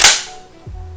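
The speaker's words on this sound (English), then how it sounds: "make sure that firing pin fires. Hear it click, locks back" A single sharp metallic click from the firing pin of an unloaded Franchi Affinity Elite semi-automatic inertia shotgun dry-firing, close and loud, followed by a softer mechanical clunk as the action locks back.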